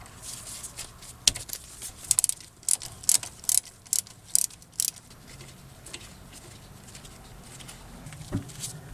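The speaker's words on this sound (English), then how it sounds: "I'm just using these little socket Allen wrenches" A ratcheting socket wrench fitted with a 7mm Allen bit, used during front brake pad and rotor work on a 2006 Mazda 3, gives a run of quick clicking bursts near the mic, with quiet stretches between.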